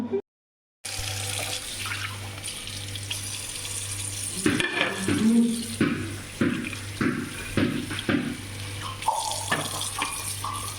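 Running tap water splashes over cucumbers being washed in a sink, a steady close gush broken by irregular splashes and clatter as the cucumbers are handled, after a brief silent start.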